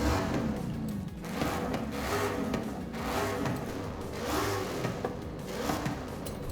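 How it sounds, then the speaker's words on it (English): Saleen F150 truck in the racing game Forza Horizon 5, its exhaust droning and revving in rising and falling surges, a continuous throaty engine note that swells repeatedly with no talk over it. "What's the exhaust sound like?"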